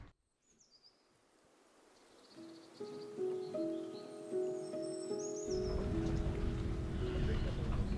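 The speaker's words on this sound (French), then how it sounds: "il se met à pleuvoir" Rain begins on a boat as a squall passes with winds near 30 knots, first a faint patter that builds steadily into a dense, loud downpour, with a few bright tones and bird-like chirps briefly over it.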